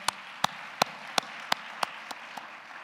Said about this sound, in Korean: 목사를 위해서 큰 박수를 한번 보내드릴까요?